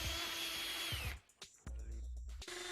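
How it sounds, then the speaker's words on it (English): A drill with a 16mm auger bit runs loudly up close, grinding into a wooden door, stops briefly, then restarts with a lower, labouring hum as the bit bores through. "Using your drill and 16mm auger bit, drill holes through the door for your handle spindle"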